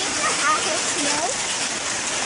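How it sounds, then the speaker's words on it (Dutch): Dense pattering of hailstones striking surfaces all around in Suriname, a steady hiss of impacts without a break. "Wat je hoort, is dus dat het hagelt."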